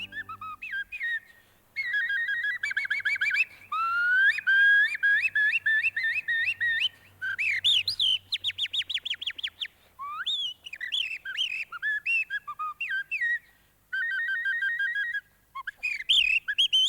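A bird impressionist whistles a long run of imitation birdsong, bright warbles, rapid trills and sliding notes in bursts separated by short pauses, loud and close with no talking.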